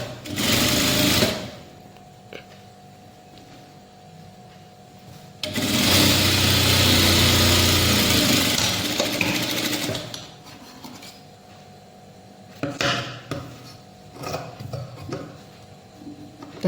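Close, loud bursts of a sewing machine stitching thread piping, with a long run in the middle and shorter spurts around it, separated by quieter stretches of handling.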